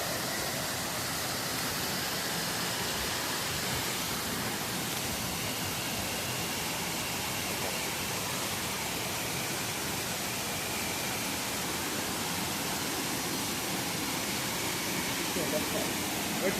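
A West Virginia waterfall roars in a steady, dense broadband rush of falling water that stays loud and unbroken throughout, with nothing else standing out above it.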